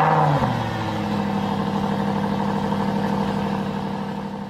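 Stage 1 tuned Audi SQ7 with over 500 PS, engine roaring under acceleration after a quick shift at the start, a loud sustained drone that holds steady and eases off slightly toward the end.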